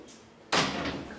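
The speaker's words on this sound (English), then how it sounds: "The door closes," A door in a Paris building swings shut with one sudden loud thud and rattle, then a short fading reverberant tail in a quiet interior.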